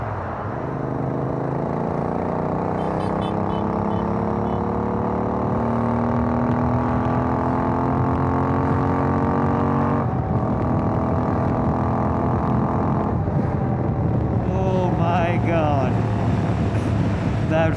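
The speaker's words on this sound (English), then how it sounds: "Time to open my throttle a little bit." A Royal Enfield Interceptor 650 motorcycle accelerating on a rainy road, its engine note climbing steadily in pitch, dropping at a gear change and rising again, loud and close with wind and road noise throughout.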